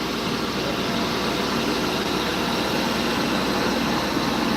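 Steady tractor engine running in a farmyard while hay is brought in, a continuous broadband rumble at constant loudness throughout with no voices.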